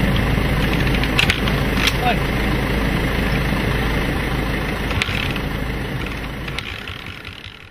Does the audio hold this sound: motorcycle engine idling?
yes